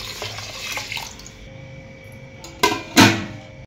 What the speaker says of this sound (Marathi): आणि याला परत आपण पाणी घालून ठेवायचं परत.